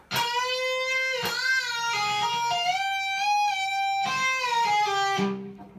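Electric guitar plays a riff, ringing sustained notes joined by slides and pull-offs, with a legato melodic line, clear and alone, ending abruptly.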